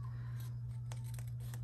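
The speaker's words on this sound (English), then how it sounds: "I'm just going to trim that off so that's nice and even and straight." Scissors snipping off the overhanging paper edge during paper piecing, with a few soft, brief cuts over a steady low hum and no talking.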